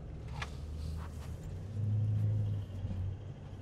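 A Toyota Land Cruiser LC200 with a V8 diesel drives along, giving a low, steady engine rumble that swells briefly as it accelerates, heard from inside the cabin and fairly quiet.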